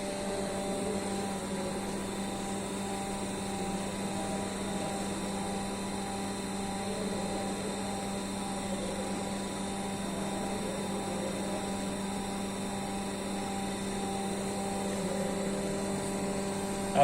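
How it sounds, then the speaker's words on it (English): Universal testing machine pressing a compressive load onto a specimen in a double shear fixture: a steady, unbroken mechanical hum with layered tones holds evenly throughout, with no voices. "And now the actual compressive load is applied onto the specimen."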